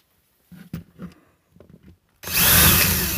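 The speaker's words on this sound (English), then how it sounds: "Hold on, I'm just going to give that another drill." Several short scraping bursts give way to a loud, continuous power drill whine, drilling out a rivet on a burnt circuit breaker, that runs steadily to the end.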